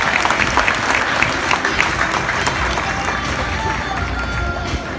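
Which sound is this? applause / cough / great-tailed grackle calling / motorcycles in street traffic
applause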